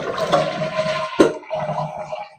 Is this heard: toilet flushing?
yes